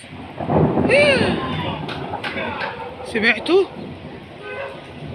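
A long, heavy rumble of thunder during a rainstorm in Zagazig, Egypt, rolls underneath, while voices speak over it close by.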